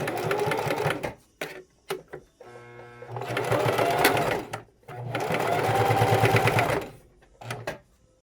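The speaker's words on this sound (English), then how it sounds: "sew the two pieces together, the Frida Kahlo piece and the brown solid piece" A sewing machine stitches two apron pieces together, one Frida Kahlo print and one solid brown lining, running in steady bursts with short pauses between and a brief faint voice early on.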